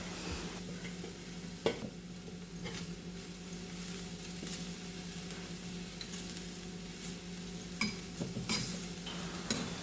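Spinach being stirred with grated coconut in a pan, a steady soft scraping under a low background hum, with a few sharper knocks of the spoon against the pan.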